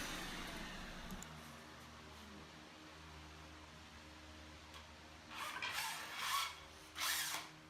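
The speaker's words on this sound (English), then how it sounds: "I think I'm going to put a chamfer around the top edge of that walnut." A router cuts a chamfer along the top edge of a walnut cabinet panel, heard as faint, brief whirring bursts near the end after a long, quiet stretch.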